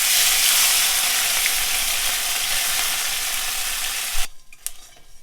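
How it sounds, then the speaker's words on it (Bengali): Small chuno fish dropped into hot oil, a loud, steady close sizzle and crackle that cuts off abruptly near the end, followed by a few faint clinks. "এর মধ্যে চুনো মাছটা দিয়ে দেবো।"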